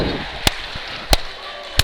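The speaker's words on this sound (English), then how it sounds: "I'm clapping." Three sharp, well-spaced claps ring out one at a time, fairly close, at a gym wrestling meet right after a close 3-2 bout.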